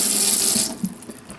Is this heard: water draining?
yes